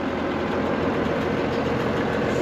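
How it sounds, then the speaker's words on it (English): A 150 Puma tractor with a Pottinger front mower and a Kuhn rear mower runs out in a grass field, giving a steady, dense engine drone that holds an even level throughout with no pauses or talk. "It's the 7th of May and we've got the mowers on."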